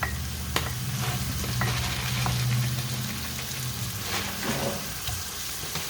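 Shrimp and pork fry in a pan for spicy fried rice, giving a loud, steady sizzle close up, with occasional scraping stirs and clacks over a low hum.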